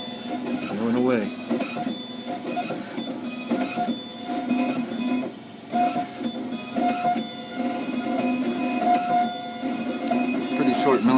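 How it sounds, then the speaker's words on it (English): A CEREC MCXL dental milling machine mills a block with a continuous mechanical whirring and grinding, pulsing in uneven bursts with squeaky tonal accents, nearby and moderately loud. "Pretty short milling process on these MCXLs."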